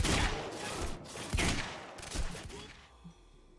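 Pistol gunfire in the video game Quantum Break, a rapid run of muffled shots blending into a dense, rolling burst that fades out toward the end, fairly quiet overall.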